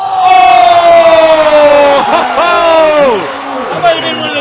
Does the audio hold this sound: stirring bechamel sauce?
no